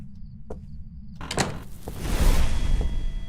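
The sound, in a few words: door sound in Phasmophobia video game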